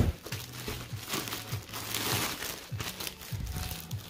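Plastic packaging from a Karcher KB5 lightweight cordless sweeper crinkles steadily and close by for several seconds, with no talking.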